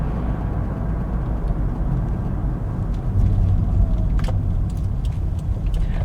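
A car drives steadily through and out of a roundabout, heard from inside as a continuous low engine and road rumble with a slight swell midway and a few faint clicks and rattles.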